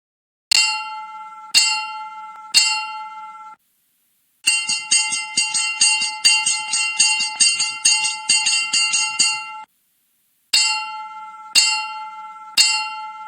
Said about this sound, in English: give 3 separate and distinct strokes on the bell immediately before and after the rapid ringing of the bell